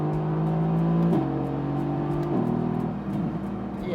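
A 2016 Mercedes-AMG GT S engine revs hard under full acceleration in manual paddle-shift mode, a loud, close, steady roar that climbs in pitch and drops twice at quick gear changes, with no talking.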